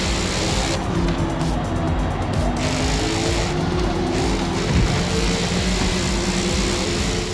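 A 1970 Boss 302 Trans Am racing at Laguna Seca in Forza Motorsport, its engine roaring steadily and loudly throughout, with other race cars nearby and no speech.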